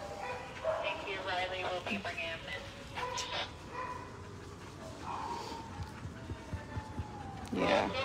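Dogs at a rescue shelter bark, yip and whimper intermittently in a reverberant room, mostly under ongoing conversation, with a louder bark near the end.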